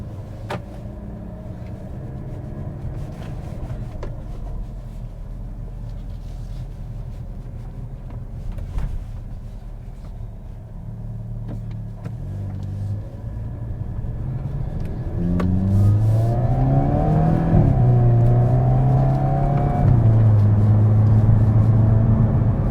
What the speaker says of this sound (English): put the exhaust on the loudest setting, because obviously you want to hear a bit of sound